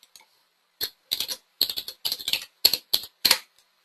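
Typing on a computer keyboard, short bursts of quick, clattering keystrokes separated by brief pauses, close and clear against a silent background.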